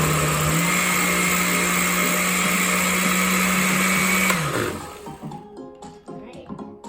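A blender whirs loudly and steadily while mixing a blueberry dragonfruit vegan smoothie, its motor pitch rising slightly early on, then it winds down around four and a half seconds into quieter clatter and handling noises with some voice.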